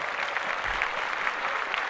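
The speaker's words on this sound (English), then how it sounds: "clap it up for Joel Embiid." A steady burst of crowd-style clapping on a sports talk podcast, a dense even patter of many hands, fairly soft and without voices over it.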